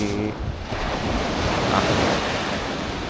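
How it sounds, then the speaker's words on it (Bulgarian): Sea waves roll and wash against the coast of Southern Italy, a loud, continuous roar of surf mixed with heavy wind buffeting the microphone, with no voices. "Ето го морето."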